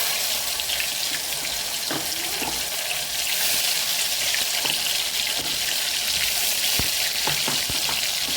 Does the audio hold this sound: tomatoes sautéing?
yes